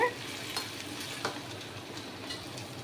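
Curry leaves and green chillies fry in oil for ginger thokku, giving a steady, moderate sizzle with a few brief stirring clicks, with no talk.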